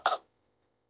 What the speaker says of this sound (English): can't due to these hiccups.